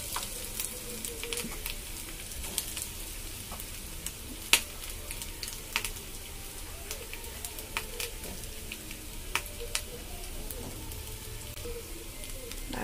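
Tomato and potato pieces frying with already browned onions in a pan, giving a quiet, continuous sizzle broken by scattered spatula taps and stirring clicks throughout.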